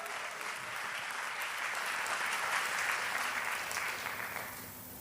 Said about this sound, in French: On l'applaudit ensemble.